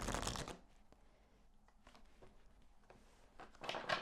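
Enchanted Map Oracle cards are shuffled in a quiet room, with two loud riffling bursts at the start and end and softer scattered card taps in between.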